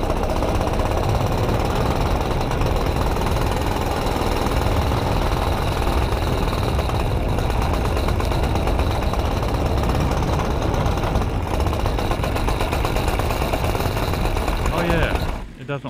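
Small engine running roughly with a harsh, rapid rattling clatter like a jackhammer, loud and close, continuous throughout before cutting off at the end.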